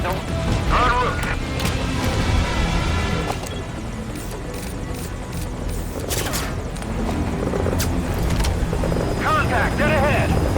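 A helicopter in the video game Metal Gear Solid V: Ground Zeroes keeps up a loud, steady rotor roar throughout, with voices and combat sounds layered over it.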